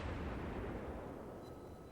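Naval guns of the cruiser Karlsruhe firing in the World of Warships video game, heard as a loud, continuous low rumbling boom that fades slightly toward the end.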